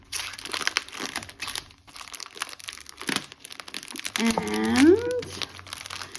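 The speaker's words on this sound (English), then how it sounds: "So let's open this up. Excuse the crinkling." Tightly sealed plastic packaging on a Christmas cross stitch ornament kit crinkles and crackles in irregular bursts up close, with a brief squeaky tonal sound near the end.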